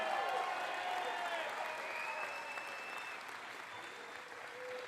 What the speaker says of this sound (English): Give the Vance team a round of applause.